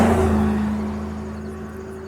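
A passing truck on a rural Kansas road with a tonal tire whine fades away as it recedes into the distance outdoors in the early morning, with no voices.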